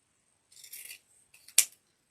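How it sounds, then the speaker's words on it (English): Scissors trim a length of ribbon for an Easter pickup truck pancake wreath: a soft rustle of handling, then one crisp, close snip, followed by the start of another cut at the very end. "I'll trim that here at 7 inches because I'm going to trim off a little bit."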